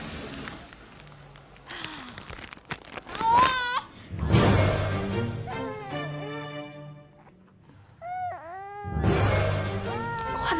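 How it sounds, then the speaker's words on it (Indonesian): A baby cries in repeated wailing bursts, loud and close, with breathy sobbing gaps between the cries, heard on a street. "Kok ada suara bayi sih di tengah jalan kayak gini?"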